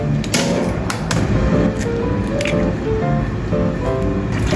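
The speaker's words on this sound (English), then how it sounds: "Crack eggs into bowl." Eggs are cracked into a bowl for steamed drunken shrimp, giving a few sharp shell cracks followed by soft wet squishing and dripping, close and fairly clear.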